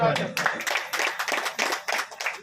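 Loud crowd applause at a gathering greets a participant, dense rapid clapping with rhythmic bursts, mixed with voices talking over it.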